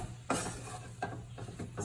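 Choux pastry dough of flour, water and fat cooking in a pan, stirred with a few distinct scraping strokes over a low sizzle, close and fairly quiet.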